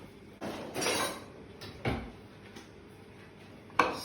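Metal cutlery clatters in a kitchen drawer as it opens and a knife is pulled out, with a few close rattles and a sharp knock at the end.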